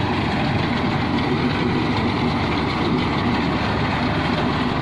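A tractor-driven straw loading machine lifting paddy straw runs in a steady, continuous low engine drone with a rough mechanical rumble, loud and close, unchanging throughout with no voices.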